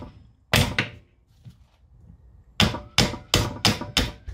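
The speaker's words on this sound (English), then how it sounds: "I have a normal hammer." Ordinary hammer striking the wheel studs on a car hub of a right-hand-drive Honda Integra: one sharp metallic blow, then a pause and five loud, evenly spaced strikes close by, with no talking.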